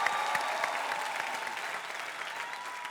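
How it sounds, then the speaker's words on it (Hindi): Studio audience at a talent show applauding a magician's performance, a brief, steady burst of dense clapping with faint cheering mixed in. "एक बार जोरदार तालियां हो जाए राहुल सिंह के लिए"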